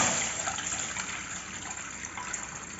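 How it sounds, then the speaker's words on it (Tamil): Water gushes steadily into a pot on a kitchen stove while French fries are being made, a close, continuous broadband splashing pour that lasts throughout without talk. "இப்போ தண்ணி ஊற்றலாம்."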